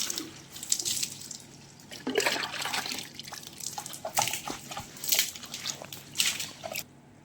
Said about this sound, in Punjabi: ਹੁਣ ਆਪਾਂ ਸਾਫ਼ ਪਾਣੀ ਨਾਲ ਧੋ ਦਾਂਗੇ ਇੱਕ ਵਾਰੀ ਫ੍ਰਿਜ ਨੂੰ